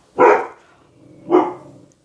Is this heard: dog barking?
yes